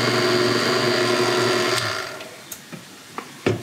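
A stand mixer with a paddle attachment works pasta dough for ravioli, whirring steadily for about two seconds before winding down, followed by a few scattered light knocks and clicks.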